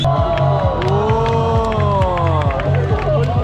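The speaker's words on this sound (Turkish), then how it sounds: "Şimdi bir gaza gelmeye başladı seyirci." An audience at a Taiwan night event cheers and whoops loudly and without a break, with shouting voices and rising whistles over dense crowd noise.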